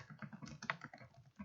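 Quick, uneven keystrokes on a computer keyboard as text is entered into an Excel spreadsheet, close and fairly loud, with a slightly heavier key press near the middle; no one speaks.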